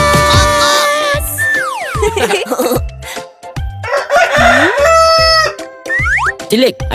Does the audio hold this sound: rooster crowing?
yes